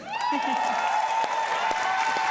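Audience applause at E3 2019, a dense wash of clapping, with a sustained musical tone and a few voices underneath.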